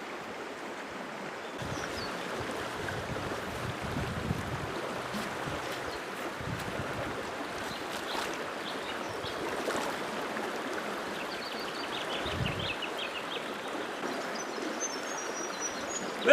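River water flowing in Australia on a cold day around three degrees, a soft continuous rushing wash at low level, with faint bird calls scattered above it and no talking.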